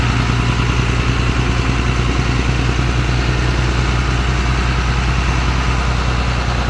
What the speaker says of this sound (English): We just fired it up, rolled it out, let it warm up.